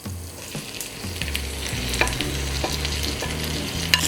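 Salt cod sautés with softened onions in a pan, a constant close sizzle broken by repeated scraping and tapping from a stirring utensil.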